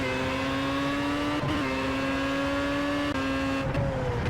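Formula A race car in Project CARS at Spa-Francorchamps, its engine holding a sustained high-pitched whine down the straight, with brief dips at gear shifts, loud and constant with no voices.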